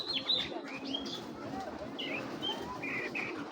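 A red checker pigeon, a short-tailed bird, gives faint high chirps and short calls over a steady, noisy background, now and then across a few seconds.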